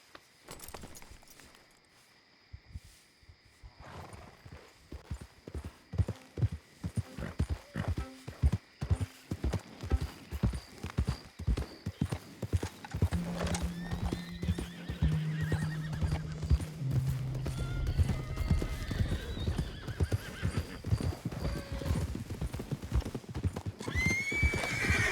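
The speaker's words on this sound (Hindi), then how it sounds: "ये सारे घोड़े आ गए।" Horses in the video game Red Dead Redemption 2 approach with steady, rapid hoofbeats that grow louder over time, joined by several drawn-out neighs and whinnies near the end, with no talk over them.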